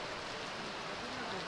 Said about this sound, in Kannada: ಮಳೆ ಒಂದು ಚೂರು ಬಿಡುವು ನೀಡ್ತಾ ಇಲ್ಲ